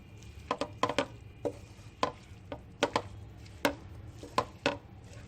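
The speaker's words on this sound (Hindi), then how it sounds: "केचप डाल के हमने अच्छे से मिक्स कर लिया" A spoon works tomato ketchup into a burger mixture in a bowl, producing a series of sharp, irregular clicks and scrapes, close and fairly quiet, with no talking.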